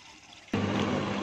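A washing machine begins filling with water, with a sudden onset of steady rushing flow partway through, fairly close and loud.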